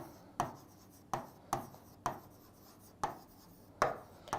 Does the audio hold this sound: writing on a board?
yes